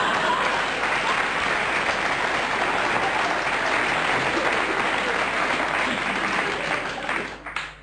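Studio audience applause closing a Hungarian New Year's Eve TV comedy broadcast, a dense, steady wash of clapping that stays loud for about seven seconds before tapering off at the end.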